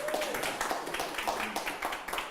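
A live audience at a Miami leadership presentation claps together in a steady crackling wash of applause that fills the whole stretch at moderate, fairly even loudness.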